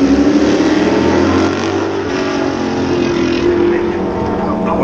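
Race cars passing on the Nürburgring track, their engines roaring loud and close in a sustained blur of sound that fades slightly as they move away.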